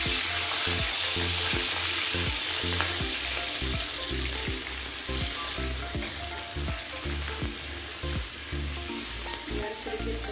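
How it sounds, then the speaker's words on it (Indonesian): Shrimp sizzling in a hot pan for kwetiau goreng, a steady dense frying hiss broken by regular stirring scrapes and clatters in a quick rhythm. "Di sini saya akan goreng dulu udang"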